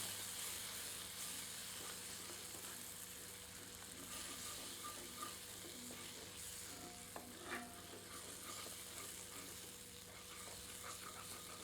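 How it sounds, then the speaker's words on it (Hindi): A masala with moringa (drumstick) fries over medium heat in a pan, a soft steady sizzle with occasional light stirring scrapes, faint and continuous with no talking. "पुनः आंच को मध्यम करके इसे 3 से 4 मिनट और भूनते हैं।"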